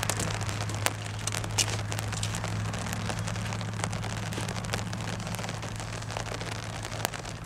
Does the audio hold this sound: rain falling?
yes